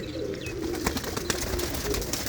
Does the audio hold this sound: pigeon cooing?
yes